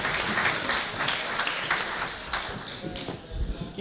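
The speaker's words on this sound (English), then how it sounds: "Give a round of applause." A live stage magic show audience applauds a volunteer coming up, with dense, sustained clapping up close and a few louder claps standing out.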